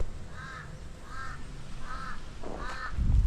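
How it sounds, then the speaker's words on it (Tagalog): Crows caw outdoors near a forest and garden plot, four clear harsh calls at a steady rhythm, fairly close, with a low rustle or thump at the end. "Galit na galit tayo ang uwak."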